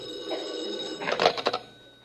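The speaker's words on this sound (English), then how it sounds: "Suddenly the phone rings." A telephone bell rings in a short trilling burst, fairly close and clear, following a brief faint warble, in a 1948 radio comedy broadcast.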